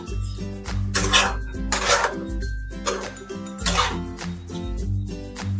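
Thecha chicken is stirred in a cooking pot, with a utensil scraping and clinking against the metal in repeated strokes, close and fairly loud, with no voices.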